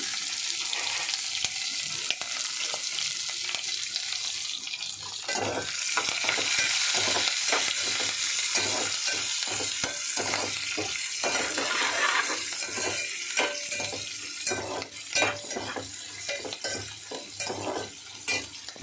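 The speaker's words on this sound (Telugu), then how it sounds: "చక్కగా వేగుతుంది" Onion and green chillies frying in a pan, a steady close sizzle with repeated scraping and tapping of stirring throughout, growing more rhythmic toward the end, with no voices.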